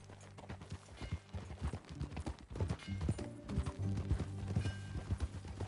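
Horse hooves clip-clop in the Western video game Red Dead Redemption 2, a steady run of close, distinct hoof strikes over soft background ambience and low rumbling tones.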